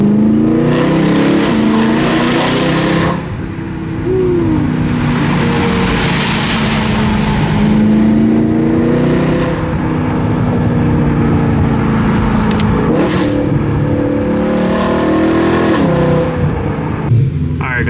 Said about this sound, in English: How can you not freaking love this car and sound?